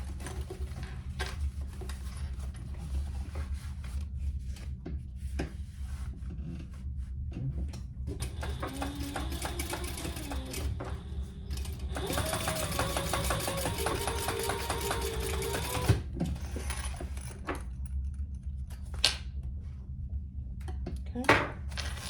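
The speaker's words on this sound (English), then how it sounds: "Pull those together and top stitch." A sewing machine top stitches a small fabric sling crossbody bag, its fast whirring run heard faintly with light clinks and taps before and after and a steady low hum underneath.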